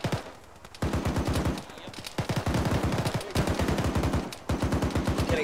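Rapid bursts of automatic gunfire from an Arma squad battle rattle out in several long volleys, loud and close, with brief gaps between strings of shots and faint radio chatter underneath.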